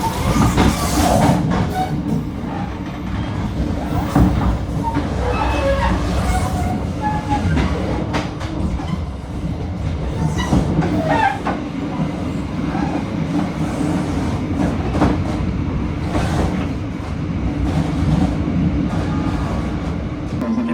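Riding inside a Cikuray economy class train from Bandung to Jakarta: a continuous low rumble of the carriage with rhythmic wheel clatter and occasional rattles and squeaks, steady and close, with no talking.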